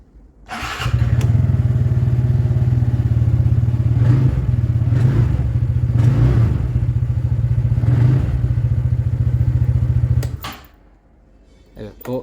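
A TVS Ntorq 125 scooter engine starts and idles with a steady low rumble, blipped with several brief revs before cutting off near the end; someone talks over it.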